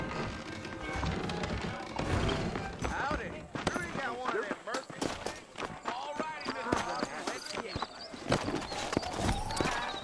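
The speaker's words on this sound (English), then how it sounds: "I got the horses saddled up and ready out front." Horse hooves clip-clopping in the Western video game Red Dead Redemption, a quick irregular patter of hoofbeats close by, mixed with snorts and other game sounds at moderate loudness.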